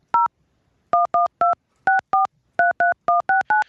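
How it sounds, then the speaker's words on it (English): Telephone keypad being dialed, a string of about fourteen short DTMF beeps in quick bursts with brief pauses between groups, loud and clear over silence. "since Jay can't dial a phone"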